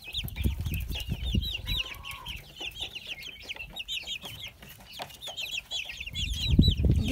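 Chicks cheep in rapid, continuous high peeps while adult chickens cluck nearby at a rural house, with occasional low thumps and handling noises close by.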